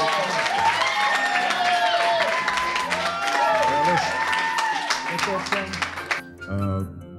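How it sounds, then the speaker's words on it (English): Audience applause at a 1993 Bayview poetry recital in a San Francisco public library, a dense steady clapping that runs for about six seconds, then thins out while voices and a tonal sound come through near the end. "let's give him a round of applause"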